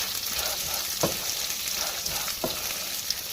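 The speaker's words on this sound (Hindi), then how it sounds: "अब ये इसमें डाल दूंगी कॉर्न्स और इनको अच्छे से मिक्स करूंगी।" Popcorn kernels stirred in a hot pan before popping, a steady sizzle broken by a few distinct spoon scrapes against the pan, with no speech.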